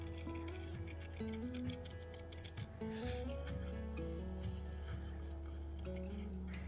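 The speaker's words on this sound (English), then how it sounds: "make sure you move your paper around, not just your scissors" Scissors snip through card paper with soft, repeated rasping cuts and small ticks, faint and steady beneath gentle background music.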